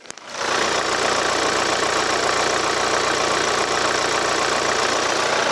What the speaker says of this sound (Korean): 나가서 엔진 소리 한번 들어보도록 하겠습니다